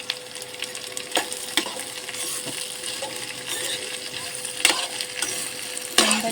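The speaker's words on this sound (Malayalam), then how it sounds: "നമുക്ക് നല്ലതായിട്ടൊന്ന് ഇളക്കണം" Okra masala curry with curry leaves stirred in a frying pan, a soft continuous sizzle broken by several sharp scraping clicks of the spoon against the pan, close and fairly loud with no talking.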